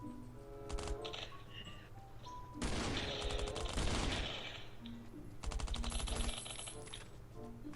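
Rapid bursts of gunfire rattle in quick succession over a steady background of game sounds in Last Island of Survival, with two longer volleys standing out.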